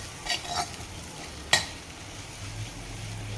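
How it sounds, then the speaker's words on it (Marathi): Sesame seeds sautéed in spiced oil for a traditional Bhogichi Bhaji vegetable dish. Soft stirring scrapes and a faint sizzle run through, with a few brief clinks of a spoon against the pan. The sound is quiet and close, and no one speaks. "एक चमचा आपल्याला तीळ घालायचे आहे ते देखील छान असे परतवून घ्यायचे"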